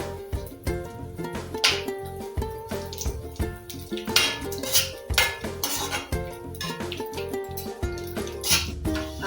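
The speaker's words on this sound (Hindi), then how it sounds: "इसमें किशमिश को तल लेंगे। अच्छी तरह से ड्राई रोस्ट कर लेंगे।" Raisins are dry roasted in a pan, stirred with a metal utensil that gives repeated close clinks and scrapes against the pan in a busy, uneven rhythm, with no talk.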